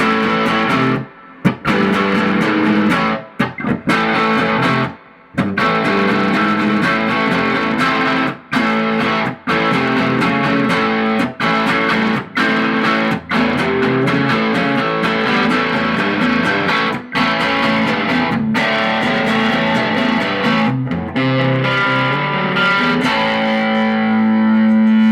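Electric guitar played through a Dr. Z Z-Drive overdrive pedal on its MOSFET red channel, loud higher-gain distorted chords and riffs with brief pauses between phrases, ringing out at the end.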